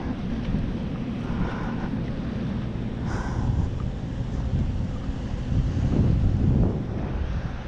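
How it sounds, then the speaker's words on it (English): Wind buffeting the microphone on a sandy beach at Dead Horse Bay, with ocean surf rolling in beneath as a continuous low roar that swells louder near the end. "there's the ocean"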